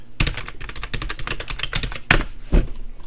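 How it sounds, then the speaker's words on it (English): Quick clattering keystrokes on a computer keyboard, a fast close run of taps with a couple of heavier key strikes near the end, no talk. "I'm just going to type in an icon"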